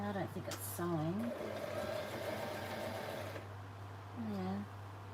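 A sewing machine stitches with a steady mechanical hum that runs through most of the clip, with a person talking over it at times.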